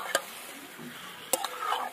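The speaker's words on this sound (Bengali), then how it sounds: "লোটে মাছ নুন হলুদ মাখিয়ে রেখেছি দিয়ে দেবো, সব মশলার সাথে মিশিয়ে নিতে হবে" Bombay duck fish rubbed with salt and turmeric being stirred into spices in a pan, two sharp scrapes of a spatula over a soft background sizzle, close up, with no voices.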